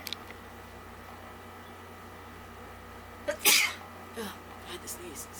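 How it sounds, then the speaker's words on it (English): A single sharp sneeze near the middle, fairly close against a quiet room, followed by faint small rustles. "I had to sneeze."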